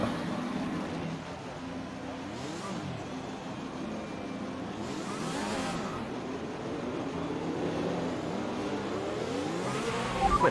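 A race car engine revs during a practice start, its pitch climbing and falling in repeated sweeps, with a sharp burst near the end and no voices.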